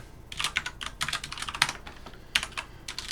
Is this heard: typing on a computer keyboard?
yes